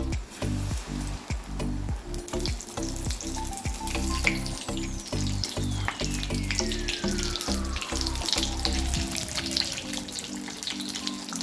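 Banana fritters (pazhampori) fry in hot oil with a continuous bubbling sizzle that holds steady throughout, beneath rhythmic background music and with no one speaking.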